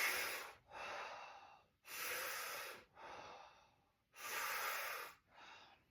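Slow, deliberate mouth breathing during a breathing exercise, close and clear: three long, loud airy breaths alternating with shorter, softer ones in an even rhythm, with no talking.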